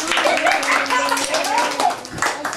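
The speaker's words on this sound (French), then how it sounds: "vous devez les applaudir" Clapping for two young siblings at a gathering, a quick burst of hands clapping close by that blends with an adult voice talking over it, followed by a few scattered claps.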